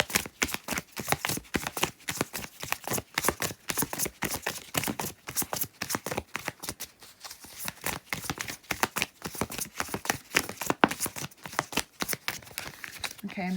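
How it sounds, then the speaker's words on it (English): Tarot cards being shuffled by hand, a steady run of dense riffling and flicking bursts that carries on for the whole stretch, close and clear, with no talk over it. "Let's just shuffle the cards and get them out."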